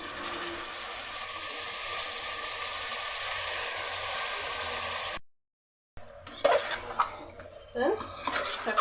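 Chicken being stirred in a cooking pot with ginger-garlic paste for a country chicken curry: soft scraping and sizzling under a steady kitchen hiss, a short silent gap, then clattering spoon strokes against the pot.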